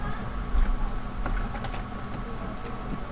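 Keys clatter on a computer keyboard as code is typed, a close run of quick, uneven taps with a few louder strokes, fairly quiet and without talk.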